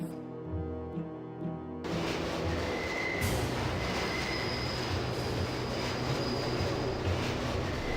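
A train departs in the video game Deus Ex: after a moment of music, a loud rush of rumbling rail noise begins, with faint squealing tones riding over the steady roll.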